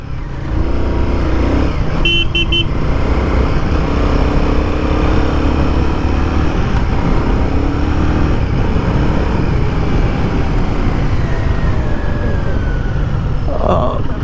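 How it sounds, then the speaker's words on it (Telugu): Royal Enfield Guerrilla 450 motorcycle accelerating hard in second gear, a loud steady engine roar with rising pitch and heavy wind rush running throughout, close and continuous. "బైక్ సెకండ్ గేర్లో 60-50 అసలు మామూలుగా లేదు, ఒక రేంజ్లో లేస్తుంది బండి"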